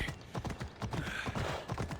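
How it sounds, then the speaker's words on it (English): Horse hooves in the video game Assassin's Creed Odyssey, a close, rhythmic clip-clop of a trotting gait with evenly spaced thuds and no talk over it. "I need to take this horse to either Adonis or to the stable boy"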